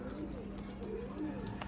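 A high flyer pigeon, one of a red-eyed pair, gives soft low cooing notes, quiet and close, over faint background noise.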